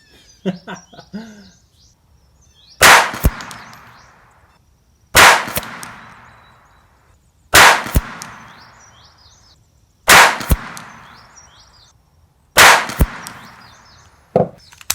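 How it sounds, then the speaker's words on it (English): Five sharp .22LR pistol shots from a Ruger Mark IV, fired outdoors at a 100-yard target, crack at roughly even two-and-a-half-second intervals, each loud and close with a short decaying echo, while birds chirp faintly between them. "All right, so our third 5-shot group here."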